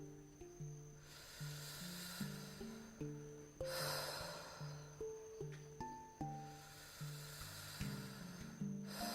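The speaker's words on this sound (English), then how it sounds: "Inhale, exhale" Rhythmic, forceful breaths of Tummo breathwork repeat at a steady pace, each a sharp, hissy inhale or exhale close to the ear, quiet and unaccompanied apart from faint background music.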